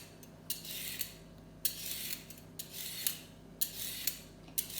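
Repeated scraping strokes of a peeler along a carrot, a steady rhythm of short rasping pulls at close range in a quiet kitchen.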